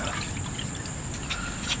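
Water trickles steadily into a fermentation bucket airlock during home brewing, a soft continuous pour close by with a faint high tone in the background.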